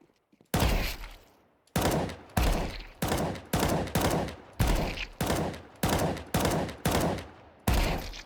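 Counter-Strike gunfire from an aim-training exercise: ten separate loud single shots, each with a sharp attack and a short decaying tail, spaced roughly every half to one second after a brief quiet opening, with no talk.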